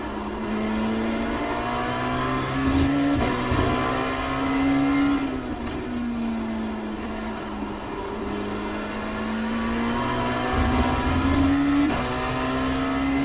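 Dallara P217 LMP2 prototype race car engine in iRacing at Watkins Glen, a loud close buzzing engine note that drops in pitch through downshifts and rises again, with brief throttle blips and no talk.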